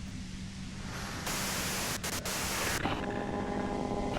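Loud, steady white-noise static from the video game Disco Elysium, a continuous hiss that swells and shifts in texture with brief dropouts partway through, with faint tonal hum beneath.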